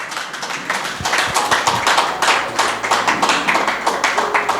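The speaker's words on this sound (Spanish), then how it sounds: "dale un aplauso al Señor" A church congregation claps during a sermon, and the sharp handclaps build into a rhythmic, fairly close group clapping that keeps going without talk.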